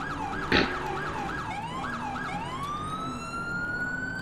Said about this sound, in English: I have a new siren as well